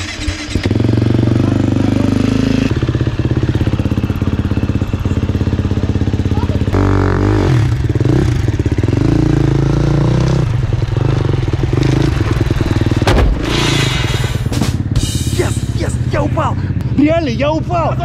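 Motorcycle engine revving and running close by during a ride, loud and continuous with clattering bursts, while people talk and shout over it.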